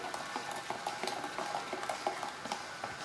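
Soap being stirred into boiled water in a kitchen container makes a steady, continuous scraping and sloshing, close and fairly quiet, with no talk.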